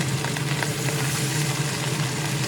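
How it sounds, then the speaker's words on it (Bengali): Large Bhola fish frying in oil in a wok make a dense, continuous sizzle and crackle that holds at an even level throughout, with no talk over it. "তিনটে তিনটে করে ভোলা মাছ কড়াইতে দিয়ে ভাজব"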